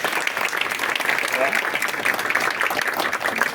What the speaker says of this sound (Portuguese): Uma salva de palmas, então, professor.